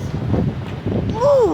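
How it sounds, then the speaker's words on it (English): Strong wind on a mountain trail in the Smokies buffets the microphone with a loud, continuous rumbling roar, joined by a rising whistle near the end. "Man, it's windy today."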